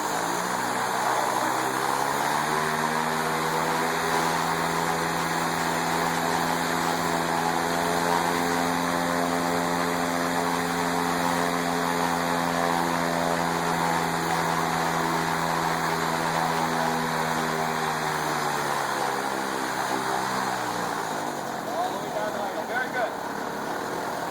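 A powered paraglider engine in a training simulator spools up smoothly from low revs to full throttle, a loud droning propeller tone climbing in pitch and holding steady at high power before easing off near the end.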